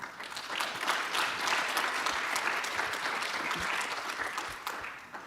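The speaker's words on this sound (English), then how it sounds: "I would like to ask for a round of applause to the panel." Conference audience at a UNIDO artificial intelligence for industry gathering applauding a panel, a steady, fairly faint roomful of clapping lasting about five seconds.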